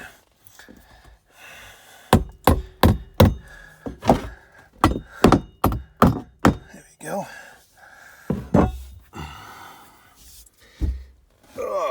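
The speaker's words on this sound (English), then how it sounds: "Bang them down with a flat bar." A run of sharp metallic bangs in quick succession as nails are driven into decking with a flat steel bar, then scattered knocks and heavy breathing.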